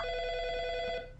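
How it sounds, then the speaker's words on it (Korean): A telephone bell rings steadily and close for about a second before cutting off, its bright repeating trill sounding alone with no talk over it. "한편 니코의 세계에선 작업을 끝낸 앙헬이 누군가의 전화를 받고 있었습니다."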